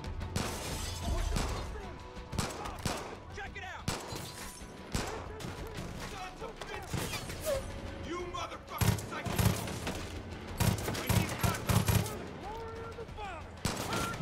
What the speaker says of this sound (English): now we'll have some fun with some proper guns